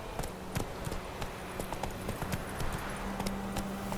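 Roach, Geralt's horse in The Witcher 3 video game, gallops with steady rhythmic clip-clop hoofbeats on the ground, close and fairly loud throughout, with a low droning tone in the background.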